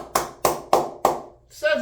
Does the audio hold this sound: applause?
yes